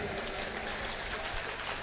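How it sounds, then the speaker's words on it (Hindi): Loud, dense applause from an audience at a Hindi comedy poetry gathering, a steady wash of many hands clapping with no gaps throughout. "एक बार जोरदार तालियां बजाइए,"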